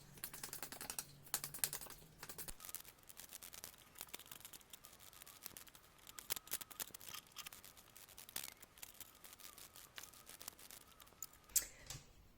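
Tarot cards being shuffled by hand: soft, rapid riffling and tapping clicks in a continuous irregular patter, close and quiet.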